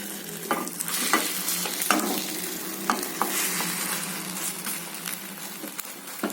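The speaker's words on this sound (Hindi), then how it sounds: "अब हल्की सी आंच पे हम दूसरी साइड से भी इसे पकाएंगे" An omelette fries on low heat in a pan after being flipped. A steady close sizzle runs throughout, broken by repeated light taps and scrapes from a utensil, with no voices.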